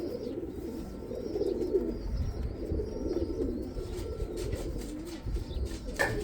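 Young pigeons coo steadily and softly in a backyard loft, with blackbirds foraging alongside. The low, throaty cooing carries over a faint outdoor background.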